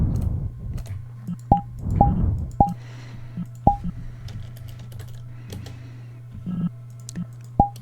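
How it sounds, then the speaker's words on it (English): Computer keyboard typing comes in irregular clicks spread across several seconds, with some sharper individual keystrokes over a steady low hum and muffled noise at the start. "then a moment of typing"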